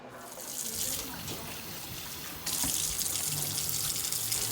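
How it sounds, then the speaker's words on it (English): Kitchen tap water runs steadily over a potato being rinsed, a continuous broadband splash that grows louder and brighter partway through as the flow hits harder, with no talking. "All done rinsing the potato."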